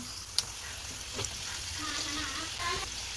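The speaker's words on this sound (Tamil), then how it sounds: "பின் சைடையும் நல்லா மீடியம் ஃப்ளேம்லேயே வச்சு நல்லா முறுமுறுப்பாக பொறிச்சு எடுத்துக்கலாம்" Maida flour vada frying in oil in a kadai over a medium flame, a continuous close hiss of sizzling oil with an occasional sharp clink and light stirring scrape.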